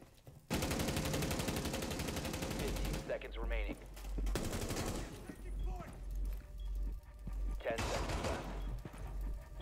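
Rapid automatic gunfire in Rainbow Six Siege, loud sustained bursts with short breaks between them and a few sharp clatters, with a voice talking in between.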